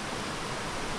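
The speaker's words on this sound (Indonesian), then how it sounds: "Apalagi ada aliran sungai." A mountain stream on the forest trail to Mount Prau via Ngelak, Batang rushes in a steady, close, full hiss of flowing water with no voices.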